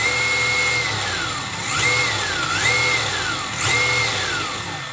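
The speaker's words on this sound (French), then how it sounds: "Alors le ventilo qui est dessus, il fait du bruit" A cooling fan on a Tamiya XV01 RC car whines steadily near full throttle, its pitch sweeping up and down in three surges over a constant mechanical hum.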